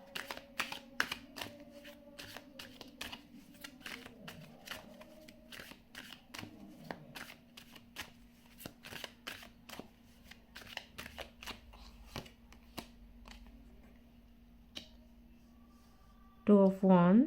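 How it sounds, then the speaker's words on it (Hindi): Tarot cards shuffled and handled by hand in a quiet room, giving a long run of soft, rapid riffling clicks and flicks, with a brief louder burst near the end. "ओके, अब यहाँ से मैं कार्ड्स निकाल रही हूँ।"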